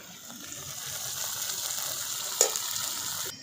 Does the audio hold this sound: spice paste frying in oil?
yes